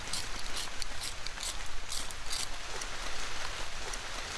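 Steady rain falls in the Amazon jungle, a dense continuous hiss of drops pattering on foliage with brief brighter bursts, close and moderately loud with no voices.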